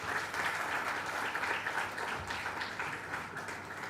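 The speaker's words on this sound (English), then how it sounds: "I really ask for a big round of applause for our sir." An audience at a summer school in computational linguistics claps in sustained, even applause, a dense crowd patter heard from a moderate distance.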